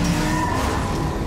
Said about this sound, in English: The roar of the engine.